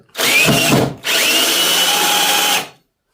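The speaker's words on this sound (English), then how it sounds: "sometimes if it lifts when you put the screw in, wind it back again" Power drill driving a screw into plasterboard, two close bursts of high whirring separated by a short pause, loud and near with no talking.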